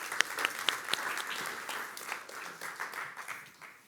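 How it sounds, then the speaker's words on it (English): Applause from a summit audience welcoming two edtech startup founders, a dense wash of clapping with a few sharp claps standing out near the start, steady and moderately distant, slowly thinning toward the end. "So big round of applause."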